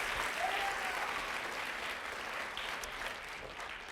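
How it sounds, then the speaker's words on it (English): An audience gives a round of applause for visiting students from Bryan ISD at a school reading event, steady crowd clapping heard faint and distant, gently fading over four seconds. "One more big round of applause for all your friends from Bryan today."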